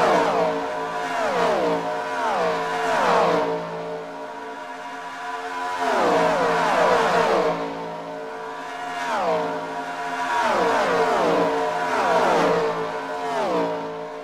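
Stock race cars crossing the finish line at Charlotte Motor Speedway, several engines sweeping past in repeated loud waves with falling pitch as each car roars by and fades.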